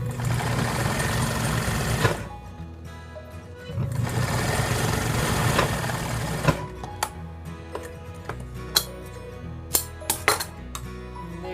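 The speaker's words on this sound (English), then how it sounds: "So you're stitching right over top of that first stitch." A sewing machine stitches piping for a chair cover, running in loud, continuous buzzing bursts that pause and restart, followed by scattered clicks and taps as the fabric is handled.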